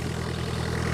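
An engine-driven pump draws fertilizer mixed with water for a watermelon field, giving a steady low rumbling drone close by with no voices.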